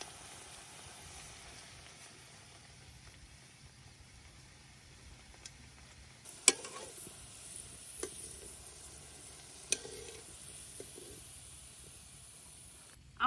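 Potato mala bora chips frying in oil, flipped partway through: a faint, steady hiss with a few sharp clicks and knocks of turning near the middle.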